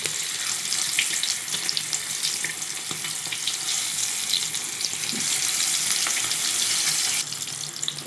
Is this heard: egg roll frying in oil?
yes